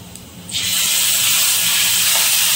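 Masala paste for a Malvani red bangda (mackerel) curry hits hot oil, a quiet pan suddenly bursting into a loud, sustained sizzling hiss that stays strong to the end.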